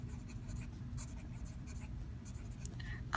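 Marker or chalk scratches across a board as a math lesson's quadratic terms are written out, with brief, close strokes over a low steady room hum.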